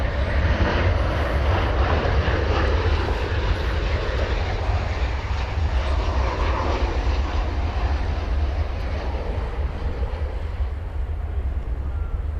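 An American Airlines Boeing 737-800 jet departs at Dallas/Fort Worth airport, giving a loud, steady roar of jet engines with a broad rushing hiss that holds throughout, with no talk over it.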